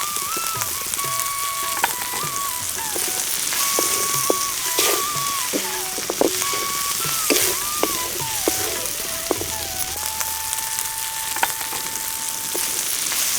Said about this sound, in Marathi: आता कांदा आणि टमाटर चांगलं परतलंय